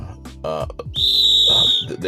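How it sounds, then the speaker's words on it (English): A sharp whistle blows in a steady, shrill tone held for about a second, mixed in among loud background sound with no clear speech. "So there's the whistle, and I'm going to just leave it there."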